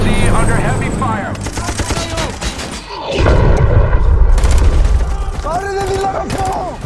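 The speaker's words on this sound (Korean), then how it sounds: "LZ under heavy fire." Heavy automatic gunfire and explosions pound a helicopter landing zone in a war film, rapid rattling bursts and deep booms crowding together loud and close, with a heavy blast midway and voices talking through the barrage.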